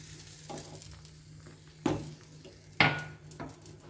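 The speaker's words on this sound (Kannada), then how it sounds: "ನಾನಿವಾಗ ಒಂದು ಒಳ್ಳೆ ಒಗ್ಗರಣೆ ಹಾಕ್ತಾ ಇದ್ದೀನಿ ಸಾಸಿವೆ ಎಣ್ಣೆ ಇಂಗು" Bursts of sharp sizzling as mustard seeds, asafoetida and chillies hit hot oil for tempering, two loud crackling surges amid lighter stirring and pan scraping, with no voices.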